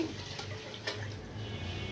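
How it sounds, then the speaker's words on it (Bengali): Water pours into a cooking pot for beef khichuri with lentils and rice, a soft continuous rushing splash at close range with no talking. "এখন দিয়ে দিচ্ছি পানি"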